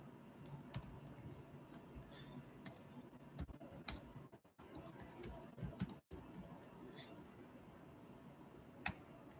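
Someone types questions into a chat box on a computer keyboard, giving quiet, uneven bursts of key clicks and taps with short pauses, close to the microphone.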